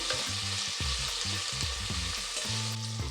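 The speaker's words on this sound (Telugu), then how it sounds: "అలానే ఉల్లిపాయ ముక్కలు వేసుకోవాలండి. ఇవి కొంచెం బాగా ఫ్రై అవ్వాలి." Chopped onions and green chillies frying in a pan for vegetable dal rice, making a loud, close, constant sizzle with a low pulsing hum running underneath.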